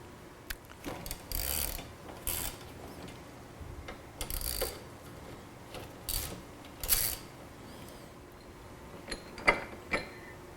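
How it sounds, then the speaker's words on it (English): Bolts on a Can-Am Spyder RT being loosened with a number 7 Allen key, faint scattered metallic clicks and short ratcheting scrapes at irregular intervals, close but quiet, with no talking. "you're going to take your number 7 Allen key and you're going to remove all 4 bolts"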